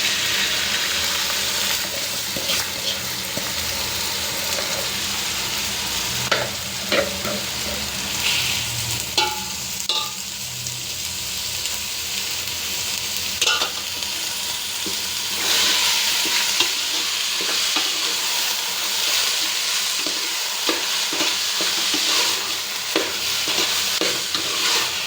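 Washed rice stirred and fried in hot oil in a pan, a steady close sizzle with irregular scraping stirs throughout and no voices.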